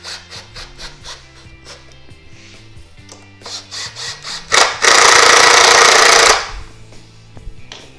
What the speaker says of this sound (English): Drill your screw through all the way till you can just barely feel it on the other side